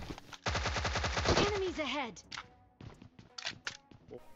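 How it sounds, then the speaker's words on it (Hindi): A suppressed Tommy gun fires in PUBG Mobile, a rapid rattling burst of muffled shots lasting over a second, followed by scattered single shots and clanks, with a voice speaking over part of it. "ये टोमी गन पे जब सप्रेसर लगता है ना भाई जो ही आवाज आती है"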